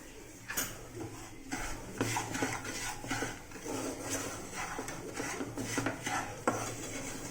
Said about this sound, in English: you just can't avoid to stir it, otherwise it will be charred. Keep on stirring it.